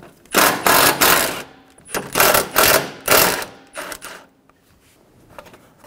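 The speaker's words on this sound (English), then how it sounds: "Using a 10 millimeter socket," A ratchet turning a 10 mm socket to loosen the airbox bolts on a 2007-2011 Toyota Camry 2.4L I4, heard as several loud, close bursts of rapid mechanical clicking separated by short pauses, fading toward the end.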